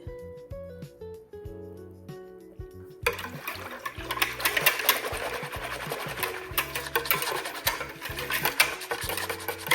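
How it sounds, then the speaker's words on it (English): Ingredients for sourdough sandwich bread are whisked briskly in a bowl, a steady rhythmic scraping that starts after a few seconds of soft music, with the music continuing underneath. "It's important to whisk this so you remove any clumps."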